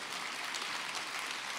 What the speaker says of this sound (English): Everybody is clapping.